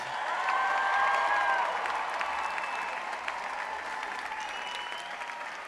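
Crowd applause for the La Salle College Preparatory class of 2026 at their commencement ceremony, with cheers rising early and dense clapping that gradually eases, heard from some distance.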